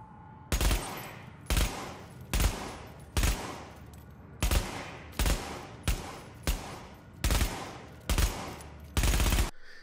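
Vector ACP submachine gun firing in the video game The Division, heard as about ten loud, evenly spaced short bursts of rapid automatic fire with brief gaps between them and no voices.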